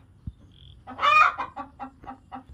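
A native country chicken gives one loud, close cackling cluck, then a run of shorter rhythmic clucks tapering off, heard alone without any voices.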